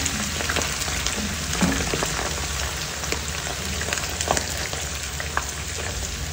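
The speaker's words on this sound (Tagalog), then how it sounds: "Prituhin na muna natin itong lahat." Sliced eggplant fries in hot oil, giving a steady, dense, close crackle dotted with sharper pops throughout, with no voices over it.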